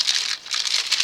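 Crinkling plastic packaging around a Santa Claus resin mold being opened, short close rustling bursts with a brief pause in the middle.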